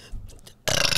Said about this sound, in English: I need a burp now.